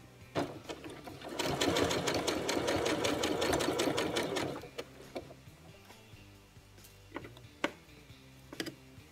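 A sewing machine stitching a sweater sleeve runs in a loud, dense mechanical burst for a few seconds, then stops; scattered clicks and small handling ticks follow, with no talking.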